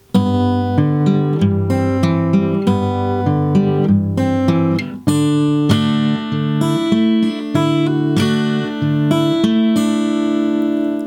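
Fingerstyle acoustic guitar picks line 2 of a song, plucked notes ringing over sustained chords in a steady flowing pattern, close and loud with no talking.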